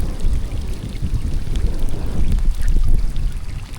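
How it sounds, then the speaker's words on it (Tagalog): Heavy rain pours down outdoors during a fishing trip, a loud, dense, continuous hiss with rumbling low wash and scattered drop impacts throughout. "Ulan na guys, lakas."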